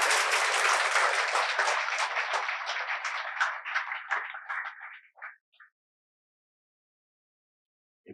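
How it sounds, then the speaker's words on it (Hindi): Loud, dense applause from an audience at an open session for RPSC exam candidates starts at full strength, thins out and fades away over about five seconds, then gives way to silence. "तालियां जोरदार बजनी चाहिए आपकी।"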